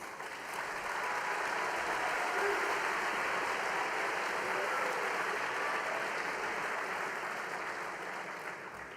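A large audience at a Rassemblement national political rally in Hayange, France applauds steadily, a dense, loud wash of clapping that holds for about nine seconds and eases slightly at the end.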